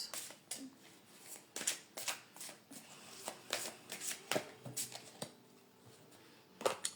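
Oracle cards, les cartes du cœur, are shuffled by hand at close range, a steady run of soft papery riffles and slaps with no voices over them.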